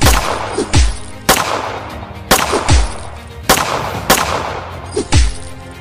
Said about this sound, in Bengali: তখন গুলি চালিয়ে দিল